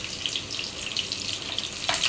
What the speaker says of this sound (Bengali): এই যে তেল গরম হয়ে গেছে। পেঁয়াজ আস্তেও রাখছি